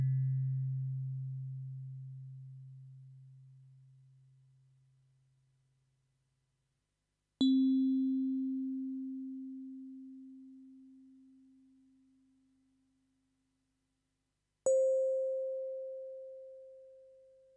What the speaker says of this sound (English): It produces the main metallic tone of electric piano.